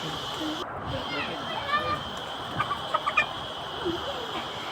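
A chicken clucks in short bursts nearby, over a steady background hiss, with a few sharper clucks bunched together.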